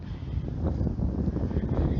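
Wind blows outdoors on a cold, clear day, buffeting the microphone with a continuous low, rough rumble that swells slightly.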